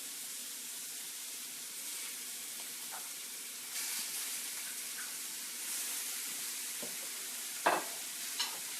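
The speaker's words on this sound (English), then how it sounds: "I have a pan that is already warmed up, and I'm going to brown my Braciole" Braciole browning in a preheated pan gives a steady, fairly quiet sizzle with occasional soft stirring and scraping clicks, and a couple of sharper knocks near the end.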